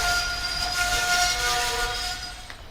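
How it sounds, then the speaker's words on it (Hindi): Passenger train pulling out of a railway station in the Jaipur–Jaisalmer region of North Western Railway, with a sustained horn tone held over rolling rail rumble, fairly loud and fading slightly at the end. "ट्रेन निकलती हुई"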